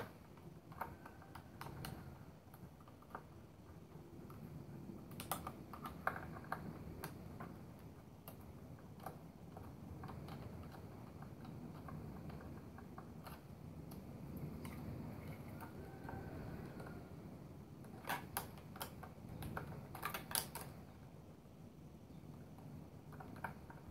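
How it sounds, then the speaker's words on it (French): Long screws come out of a hoverboard under a screwdriver, a faint run of small ticks and soft clicks with a few louder metallic taps, close and quiet, with no voices. "Donc déjà défaire ces vis là"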